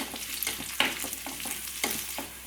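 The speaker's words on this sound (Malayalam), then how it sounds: "ചെറിയുള്ളി ഒന്ന് മൂത്ത് വന്ന് തുടങ്ങിയിട്ടുണ്ട്" Small shallots frying in oil for a mango egg curry, a soft steady sizzle broken by regular spoon stirs and scrapes against the pan, fairly faint and with no voices.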